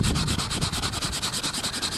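Sandpaper rubs quickly back and forth across brain-tanned buckskin, making rhythmic, close, scratchy strokes that repeat steadily and evenly, with no voices.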